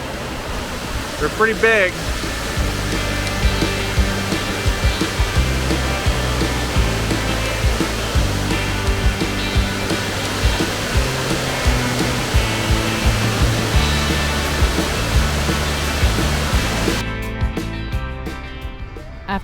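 A waterfall pours over river boulders in Kentucky, making a continuous close roar that carries on for the whole stretch while a person speaks briefly over it near the start.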